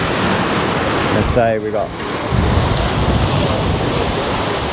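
Steady wind and breaking waves rush around a full carbon HH44 cruising catamaran under a big square-top mainsail, sailing fast near Port Ginesta; a loud continuous wash fills the whole stretch while someone speaks briefly over it.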